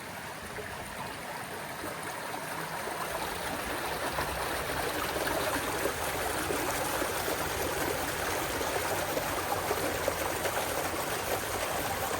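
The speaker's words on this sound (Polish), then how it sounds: "A tu zobaczcie, fajny wodospadzik." Steady rushing water of a small waterfall in an Australian park, continuous and fairly close, with a broad splashing roar and no voices.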